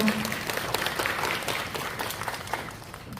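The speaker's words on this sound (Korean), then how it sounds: "큰 박수로 맞이해 주시기 바랍니다" Indoor audience at a residents' redevelopment meeting applauding to welcome a speaker, dense steady clapping from many hands that tapers slightly toward the end, close and filling the room.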